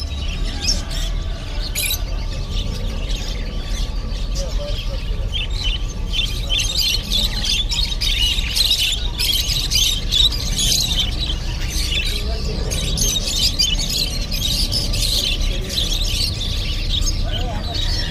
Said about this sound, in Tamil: இதில் வந்து லோ பேர்ட்ஸ் பாருங்கள் எவ்வளோ வச்சுருக்காங்க